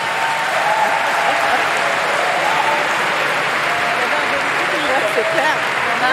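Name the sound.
audience applause for Marie Toussaint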